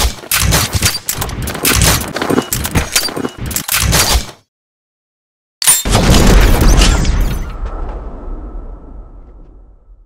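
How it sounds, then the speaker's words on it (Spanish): Shots from a new pistol being test-fired outdoors: a rapid string of loud, sharp reports for about four seconds, a pause of silence, then a heavy boom whose rumble and echo fade slowly. "haciendo pruebas con distintas pistolas"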